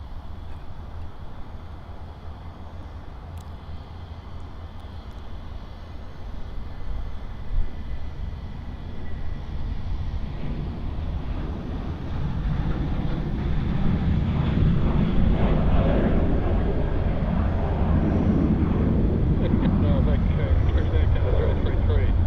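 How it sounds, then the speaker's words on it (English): A Jetstar Airbus A320 takes off from runway 34 right at Sydney Airport, its engine roar building from a distant hum to a loud, sustained rumble, with a voice talking over it. "Let's grab this Jetstar A320 departure off runway 34 right."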